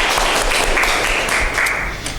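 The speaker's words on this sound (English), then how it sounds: "Give applause to us." A class at a university microteaching session applauds, a loud, dense burst of clapping from a room of students lasting a couple of seconds before tapering slightly.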